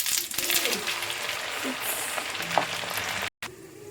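Cumin and crushed garlic frying in hot oil: a steady, soft crackling sizzle with faint spatters, fairly quiet and continuous, with brief stirring touches.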